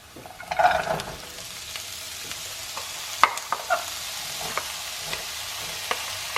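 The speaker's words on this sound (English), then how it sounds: "The onions have softened, so now we're going to add in the potatoes." Onions and small-cut potatoes frying in a pan for a spicy paneer samosa filling, a soft steady sizzle broken by sharp clicks and scrapes of stirring near the start and scattered through.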